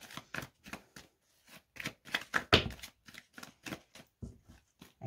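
Tarot cards shuffled and drawn in a run of crisp, quick riffles and snaps, close and fairly loud, in short bursts separated by brief pauses.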